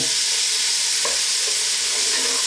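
Chopped onions dropped into hot seasoned beef fat from brisket, giving a loud, dense, close sizzle that fills the whole short moment without any voices.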